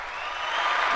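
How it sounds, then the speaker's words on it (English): Applause from a crowd honoring Baseball Hall of Fame inductees, a steady wash of clapping that swells slightly louder across the brief moment, with no talk over it. "Give them a big round of applause."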